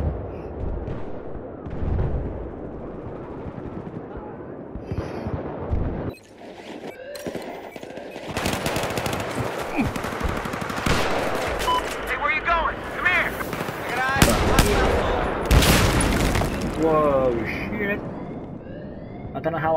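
Mk11 DMR rifle shots and other gunfire crack out in bursts in a Battlefield 4 match, loud and close amid explosions, with someone talking over the action.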